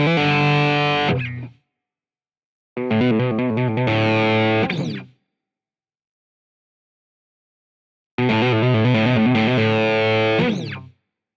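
An electric guitar runs through a pedalboard and amp with reverb and distortion, giving three loud, sustained chord bursts separated by clean silences. Each burst is rich in harmonics and rings out before cutting off.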